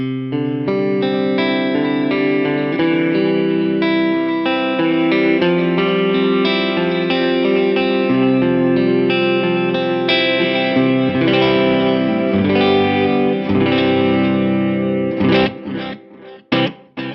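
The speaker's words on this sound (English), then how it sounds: "it's giving you two quarter delays, but they sound different and they're not hitting each other" Sustained electric guitar chords with distortion and chorus through a Line 6 Helix Stadium XL, each note echoed by two differing stereo quarter-note delay repeats that spread wide, ending in a few sharp plucked stabs.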